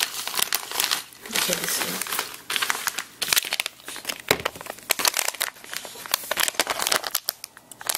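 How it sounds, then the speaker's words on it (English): Plastic Lego Series 6 minifigure packs are crinkled and cut open close to the mic, with dense continuous crackling and rustling in uneven bursts. A person speaks briefly. "I have 9 other packs here, and I'll cut them open and quickly assemble them and line them up."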